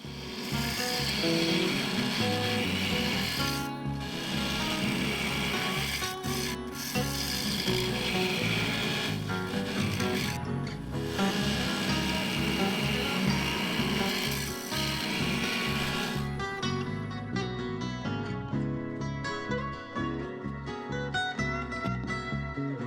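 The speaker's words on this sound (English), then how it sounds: "Being very careful, I removed material to form the shape I was looking for." Carbide cutter scraping and shaving a wooden vase spinning on a lathe, a close, continuous rasping and rubbing sound with brief breaks, steady and loud throughout.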